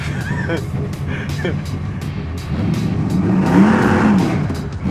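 A 1971 Chevelle SS at Coyote Classics pulls away under hard throttle, its engine roaring and building louder toward the end with a hint of tire squeal, while people talk over it.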